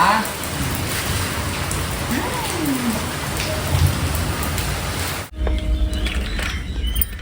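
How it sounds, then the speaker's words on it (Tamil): Heavy rain pours down in a steady, dense hiss, with a brief break near the end before the downpour resumes. "செம்ம மழைப்பா"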